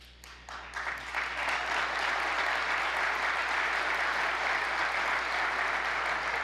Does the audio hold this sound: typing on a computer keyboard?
no